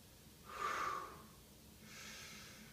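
A person exercising with resistance tubing breathes audibly, one strong close exhale followed by a quieter, longer inhale.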